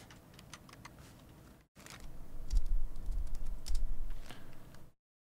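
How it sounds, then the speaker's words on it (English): Computer keyboard typing during a Minecraft survival session, a steady run of soft, close key clicks that thickens into a denser, louder burst after a brief pause before stopping. "I am tired of watching you type things"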